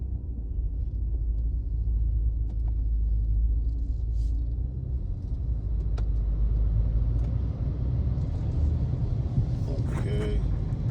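A car drives along a road north of Atlanta, its steady low engine and tire rumble continuous and close throughout, with faint higher noises passing near the end.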